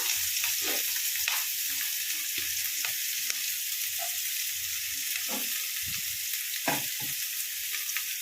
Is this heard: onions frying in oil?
yes